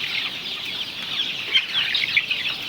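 Broiler chicks of two or three kinds clucking together on a poultry farm, a steady chorus of small peeps and clucks, moderately close with no talk.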